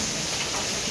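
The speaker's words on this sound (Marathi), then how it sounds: "बघा केवढा पाऊस आहे" Heavy monsoon rain pours down in Panvel, a dense, steady wash of noise with no letup and no voices, close and loud for the whole second.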